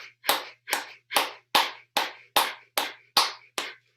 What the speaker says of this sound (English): begin to bring your hands up overhead and clap your hands while you're doing breath of fire.